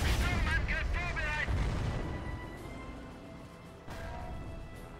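Mortar fire booms in the World War II strategy game Company of Heroes, with heavy blasts rumbling over battle noise while someone talks through the first part.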